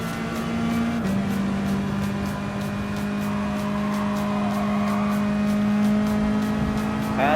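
Mazda Atenza Gr.4 race car in Gran Turismo Sport, its engine holding a steady droning note at speed with slight pitch shifts and a rising whine at the end.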